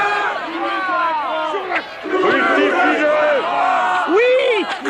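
Angry crowd demanding Jesus's crucifixion shouts and yells in overlapping, rising and falling voices, loud and dense throughout.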